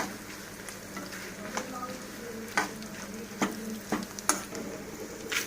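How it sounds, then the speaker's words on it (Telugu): Tamarind and dried red chillies fry in hot oil tempering for a prawn-shell chutney, giving a steady close sizzle broken by sharp scraping clicks of stirring. "చింతపండును కూడా ఎండుమిర్చి ఈ తాలింపుల్లోనే వేసి దాన్ని కూడా బాగా వేయించుకోవాలి"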